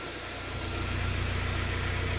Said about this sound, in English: I can show you it starting up